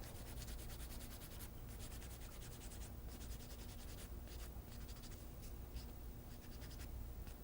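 A rough grit file rasps back and forth across a toenail surface before buffing, a faint continuous scratchy rubbing with quick strokes, close up and with no voices.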